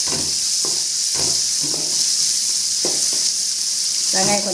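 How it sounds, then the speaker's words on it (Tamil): Chopped onion and chillies sizzle steadily in a pan for coconut rice, with a bright continuous hiss broken by several short scraping stirs close by. "சேர்த்து ஒரு மாதிரி நல்லா இந்த மாதிரி கலந்து விடுங்க."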